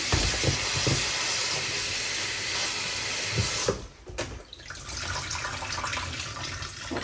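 Washed leafy greens sit draining in the kitchen as water runs off them with a steady trickling hiss. After a few seconds the flow drops away, then comes back softer and patchier.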